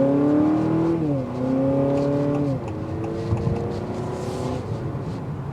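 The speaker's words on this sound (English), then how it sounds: "I like the exhaust that comes in, even though it's a 4-cylinder hybrid engine." A 2024 Honda Accord hybrid's four-cylinder engine accelerating from inside the car, its exhaust note rising in pitch, dropping as it shifts, then climbing again, steady and close with no talking.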